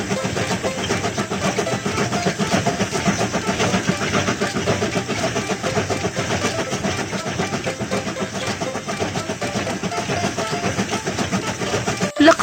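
A train moves along at a steady pace, giving a continuous rumbling, rattling roll with a faint rhythmic pulse, fairly loud and unbroken, with no voices over it.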